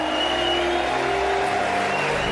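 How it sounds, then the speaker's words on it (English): Audience applause for Turning Point USA students fills the clip, a dense steady wash of clapping with tonal hum underneath, continuous for a couple of seconds. "I want our Turning Point USA students to receive a round of applause"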